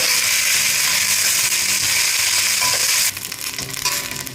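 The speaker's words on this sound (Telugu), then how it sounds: "ఇప్పుడు ఇలా దోరగా వేగాయి కదా ఉల్లిపాయలు" Onions frying in a pan for coconut rice give a steady, dense sizzle throughout, growing slightly brighter and more crackly near the end, with no voices.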